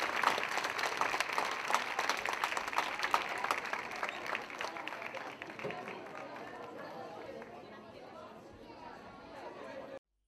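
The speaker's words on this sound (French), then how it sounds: "On les applaudit une dernière fois, ils vont quitter." Audience at a school theatre show applauding the performers, dense clapping mixed with crowd chatter, steady and close at first, then thinning out toward the end.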